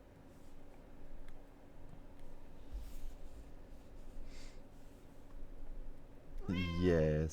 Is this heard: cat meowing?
yes